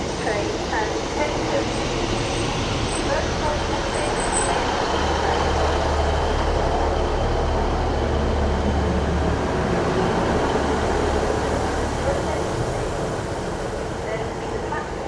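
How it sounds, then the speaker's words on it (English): A Northern Trains class 150 diesel unit pulls into Doncaster station, its low engine rumble steady and loud throughout. The broad, continuous noise of the station surrounds it. "Arriving in now is a terminating Northern Trains 150 from Scunthorpe"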